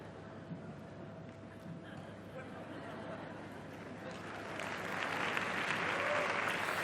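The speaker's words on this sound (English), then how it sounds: "Before you clap too much" Audience applause at a talk, steady clapping from a large crowd that swells louder in the last couple of seconds, with a voice faintly audible beneath it.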